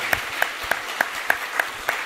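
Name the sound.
congregation applause of encouragement in church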